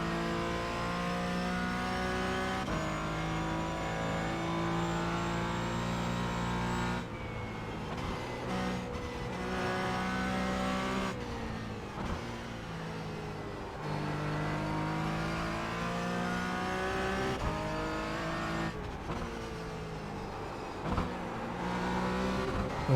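A race car engine in the iRacing sim at the Nürburgring drones loudly and continuously, rising in pitch through each gear, with abrupt drops at upshifts and downshifts, and no talking.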